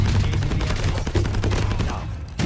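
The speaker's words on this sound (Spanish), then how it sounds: "Consigo esquivar algunas balas y busco cubrirme de los disparos." Submachine gun fire from a Switchblade X9 in a shooter video game, rapid dense bursts of shots that fill the clip, loud and close with no talk over them.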